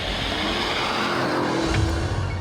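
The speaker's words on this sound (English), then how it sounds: "the Urus is an absolute blast to drive on the Welsh gravel" A Lamborghini Urus Performante drives hard on Welsh gravel, its engine a loud, continuous roar with tyres crunching and rumbling over loose stones, steady throughout with a brief rise in pitch near the end.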